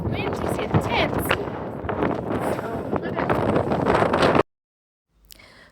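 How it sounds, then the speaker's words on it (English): Strong wind buffets the microphone on the slopes of the Cotopaxi volcano, a loud, roaring gusty rush that stops abruptly and returns faintly at the end. "This wind is intense."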